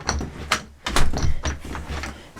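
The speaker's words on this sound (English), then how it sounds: "then you can close your door" A Kwikset exterior door with a replaced deadlatch swings shut with a couple of dull thumps and the latch clicking into place, close by, followed by a few softer knocks.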